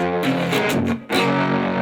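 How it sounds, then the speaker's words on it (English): Crunchy, heavily distorted electric guitar chord strummed twice, the second strum following a brief dip, ringing loud and close with no talking. "if you've got enough distortion, it'll sound crunchy."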